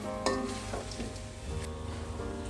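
Beef dopiaza with fried onions sizzling in a pan as it is stirred, a constant close frying hiss with soft scraping strokes and no voices.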